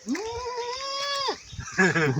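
A man imitates a baby goat's bleat with his voice, a long wavering nasal cry followed by a shorter trembling bleat, close and clear.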